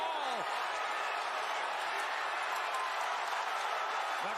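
A crowd at a Logan Paul versus Tyron Woodley boxing match keeps up a dense, steady roar of cheering from the arena, with a commentator's voice faintly over it.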